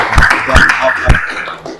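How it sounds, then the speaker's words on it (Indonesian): A group in a classroom gives a short round of clapping, with a few louder claps standing out and brief voices in the background. "tepuk tangan untuk kelompok 3."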